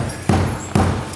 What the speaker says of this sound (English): We call this a traditional beat.